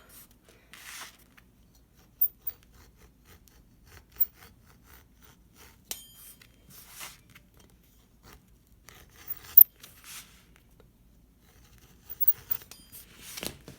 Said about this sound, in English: So I've got a rotary cutter. It's really good for efficient cutting.